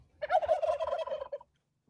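A turkey gobbles close by in one loud, rapid, rattling burst lasting about a second, then falls silent, with no talking.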